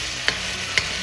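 Food frying on medium-high heat for crab in coconut milk with long beans and squash, a steady broadband sizzle with two brief sharper clicks of stirring, no voices.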